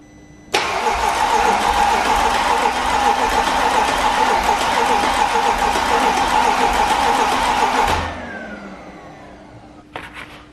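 A salvage Mercedes C63 engine is cranked over with its coil packs unplugged, giving a loud, steady starter churn that runs for about seven seconds and then winds down, followed by a couple of faint clicks.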